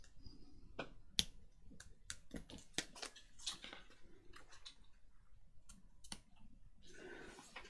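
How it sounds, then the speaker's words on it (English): Scissors trim lace for a junk journal in a series of quiet, sharp snips and clicks at an uneven pace, close and without talk. "Right, so I'll cut that off, trim the lace up. Same on the other side."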